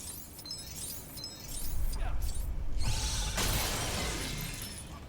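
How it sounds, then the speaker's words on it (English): Glass smashed in the Lego Superheroes 2 video game, a bright shattering crash with tinkling shards layered over a steady game soundscape, followed by a swooshing burst. "Quake can probably smash them through that glass"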